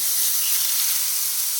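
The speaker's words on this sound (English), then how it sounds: "chicken sizzles when I put it in." Chicken hitting a hot pan for a Chipotle-style al pastor dish, a loud continuous sizzle and hiss close by with no talk over it.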